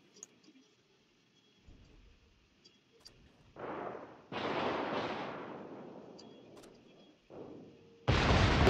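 Naval artillery fire in World of Warships rings out in several heavy booming salvos of varying length, separated by quieter gaps, the last blast loud and abrupt.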